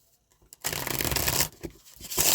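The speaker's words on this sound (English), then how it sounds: "I need to shuffle these again" Tarot cards being shuffled by hand, a loud close riffling burst broken by short pauses, with no talking.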